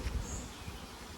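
Honey bees hum around a hive that robbers have already begun raiding, a soft, steady buzz that stays low and close for a brief moment.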